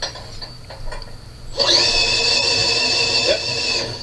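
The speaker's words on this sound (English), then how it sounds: "I gotta put the drill on slow because it's shutting off." Electric drill spinning on slow speed to crank an engine while testing a coil, a steady whirring drone that starts abruptly after a quieter stretch and runs continuously, close and moderately loud.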